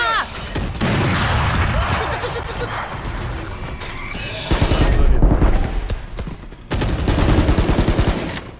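Rapid gunfire bursts in the tactical shooter game Valorant, loud and dense, coming in several sustained volleys with brief gaps, mixed with game effects and overlapping voices.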